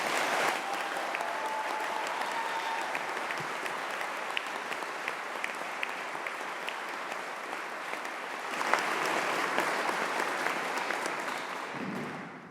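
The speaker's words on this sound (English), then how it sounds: "give a huge round of applause for the graduates of the University of Greenwich" Sustained applause from a graduation ceremony audience at the University of Greenwich, steady and moderately distant, swelling slightly near the end before fading out.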